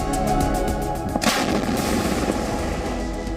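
A 155 mm indigenous ATAGS towed artillery gun fires a salute at the Red Fort, with a single loud booming report partway through over steady background noise.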